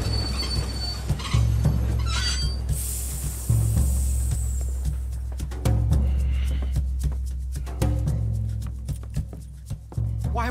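A steam train driven in Red Dead Redemption 2 rumbles along with heavy low clatter, wheels squealing shrilly at the start, then repeating rhythmic clicks and thumps of rolling over rail joints, loud and close with no voices.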